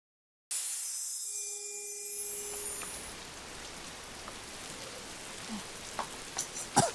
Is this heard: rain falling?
yes